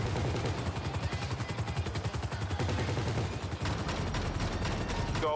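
Rapid gunfire in the video game GTA Online: dense bursts of automatic shots crackle almost without pause over a low helicopter rumble, loud and continuous across the whole stretch, with no speech.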